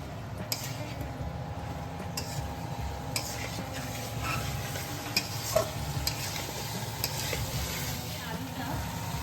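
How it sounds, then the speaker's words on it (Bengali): Fried potatoes with onion and tomato are stirred in a pan, giving a soft, steady scraping and faint sizzle with occasional light clinks of the utensil, fairly quiet throughout. "এবার আমি মিক্স করে নেব আলুগুলো।"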